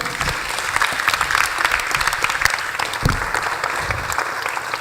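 Steady audience hand clapping at a conference, dense and continuous throughout with no gaps, fairly loud and close.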